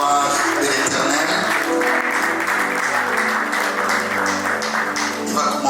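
A large church audience in Lubumbashi cheers and applauds as a prophet walks in, a dense, continuous wash of clapping and shouts with music running underneath throughout.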